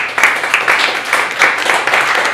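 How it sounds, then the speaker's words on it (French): An audience at a poetry night in a Montreal bistro applauds, a dense burst of many hands clapping that stays loud and steady for a couple of seconds. "on applaudit Alice La Chance"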